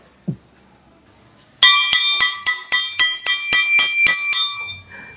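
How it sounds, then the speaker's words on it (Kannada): A metal school bell at a government primary school is struck in quick, bright, ringing clangs, about a dozen even hits close by and loud, after a single faint knock. "ಇದು ಬೆಲ್ಲು, ಶಾಲೆದು ಗಂಟೆ."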